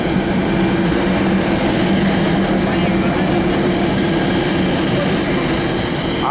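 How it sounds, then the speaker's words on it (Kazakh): Aircraft engines drone steadily at Almaty airport, a loud continuous roar with a high whine, unbroken throughout and with no clear talking over it. "Жан жағымда самолеттің дауысы деген өте көп"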